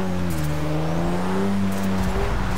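GT3 class race cars in Forza 6 at Silverstone, with loud, close engine drones whose pitch shifts as they pass, layered over one another and running steadily without pause.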